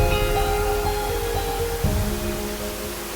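Sera Ella waterfall pours in a steady, dense roar close by, a continuous broadband rush with no pauses and faint tonal hum underneath.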